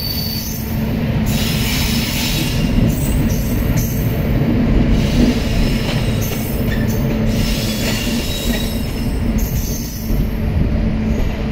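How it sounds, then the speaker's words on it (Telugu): Passenger train pulling out of Kurnool, its wheels squealing loudly over a steady rumble of railroad cars, continuous and close for the whole stretch with no talking. "సో ఫ్రెండ్ వచ్చేసి ట్రైన్ కర్నూలు నుంచి అయితే డిపార్చర్ అవుతుంది."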